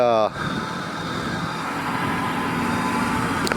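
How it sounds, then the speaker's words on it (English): A car driving past at night in Detroit's Roosevelt Park area, a steady rushing engine and tire noise close by, following a brief spoken phrase at the start. "We'll let this car go."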